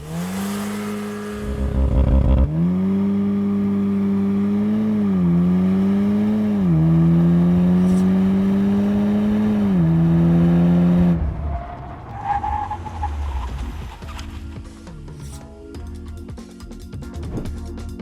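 Volkswagen Golf R Final Edition turbo engine pulling hard from a standstill to 100 km/h on a track, loud rising revs with a couple of gear changes, then the engine note drops away into quieter road and braking noise.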